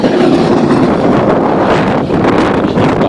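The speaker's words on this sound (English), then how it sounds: "when the wind hits you, it hits your face and it feels like this" Strong blizzard wind buffets hard and steadily across a winter storm scene in Bangor, Maine, a loud continuous rushing roar with no talk.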